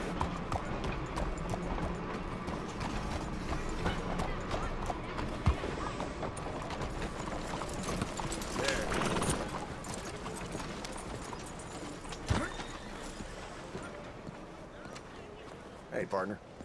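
A horse's hooves clip-clop steadily in a video game while riding, mixed with constant wind and ambient game noise, with people talking over it.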